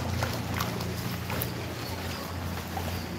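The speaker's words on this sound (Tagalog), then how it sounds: "Kaya nilusong na lang natin yung baha." People wade on foot through knee-deep floodwater on a street near the University of Nueva Caceres in Naga City, a continuous close sloshing and splashing with steady background noise.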